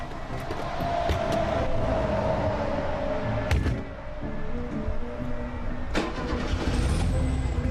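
A car engine runs with a steady rumble and occasional clunks, loud and close, with no talking.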